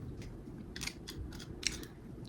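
Scissors cutting felt, a series of about eight short crisp snips at an irregular pace, close and fairly quiet over low background noise.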